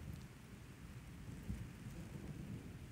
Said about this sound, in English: It's a dark and stormy afternoon.